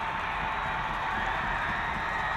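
A high school football crowd at a Mukwonago at Muskego game roars steadily to rally the defense on fourth and inches, a dense continuous wash of cheering heard from a distance, unbroken through the moment.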